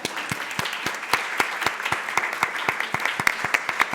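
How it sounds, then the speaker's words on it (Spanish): Audience at a book presentation in a Spanish medical college hall applauds steadily for several seconds, dense overlapping claps with sharper individual hand strikes standing out, fairly close and loud throughout. "Vamos a pasar ahora a aplaudir."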